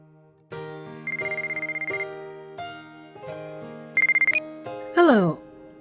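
A melodic electronic phone ringtone from a visual novel game plays in a bright, stepped tune with quick trilled notes, ending in a short swooping flourish, clear and alone.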